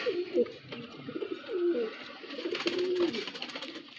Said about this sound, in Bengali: এটা হচ্ছে নর পায়রা